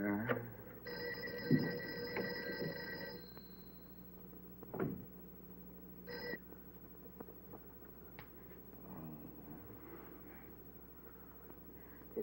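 Old-fashioned telephone bell ringing unanswered in a building, a few loud rings near the start and again briefly later, followed by a quiet room, in a 1960 science fiction film.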